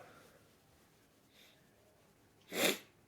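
A single sharp, loud nasal burst, like a sniff or snort, stands out near the end against a quiet background.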